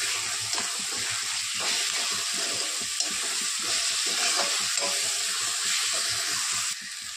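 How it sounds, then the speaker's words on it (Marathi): Ginger-garlic paste dropped into hot oil in a pan while cooking a Maharashtrian eggplant dish, a close, steady crackling sizzle with soft stirring scrapes throughout. "आता टाकत आहोत अद्रक लसूणची पेस्ट"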